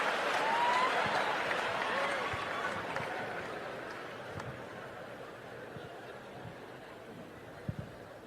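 A stand-up comedy audience claps and cheers, loudest at the start and gradually fading into scattered murmurs and a few last claps.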